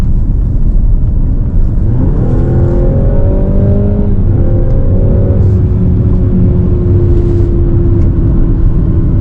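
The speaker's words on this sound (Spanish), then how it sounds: "Fijaos qué sonido más deportivo que tiene este coche" A Mazda CX-60 plug-in hybrid engine roars steadily under full acceleration in sport mode, the pitch climbing through a couple of gear shifts, loud and close with a constant rumble beneath.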